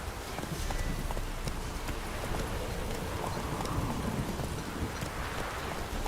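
Roach, Geralt's horse in The Witcher 3, gallops with a dense, rapid drumming of hooves, close and continuous over a hissing outdoor backdrop.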